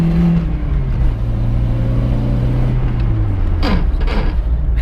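Car engine running on margarine instead of engine oil, with only three cylinders firing, droning loud and close at full throttle in second gear, its steady roar slowly falling in pitch, with no voices.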